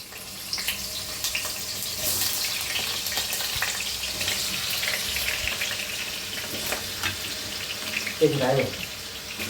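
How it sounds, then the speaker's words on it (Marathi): Potatoes sizzle steadily in hot oil with occasional stirring clatter, and a brief voice comes in near the end. "बटाटू बी भाजून घेऊया।"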